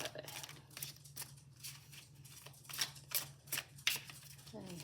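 Close, quiet riffling and snapping of playing cards being shuffled, in short irregular bursts over a low steady hum.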